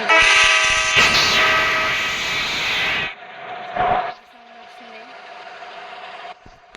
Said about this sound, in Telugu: దీని హార్న్ సౌండ్ వింటారా?